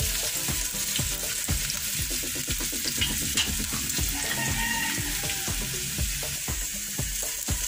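Onion, garlic and red chili sautéing in a pan for sisig, a steady crackling sizzle with rapid popping bursts throughout, close and continuous, no talking.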